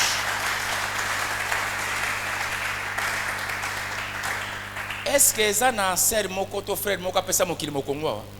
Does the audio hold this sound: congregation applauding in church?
yes